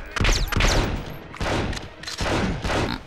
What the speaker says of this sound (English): Dude was firing an assault rifle point blank at Kim